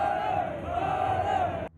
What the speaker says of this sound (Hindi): वहां मौजूद भीड़ ने जयकारों के साथ उन पर फूलों की बारिश शुरू कर दी।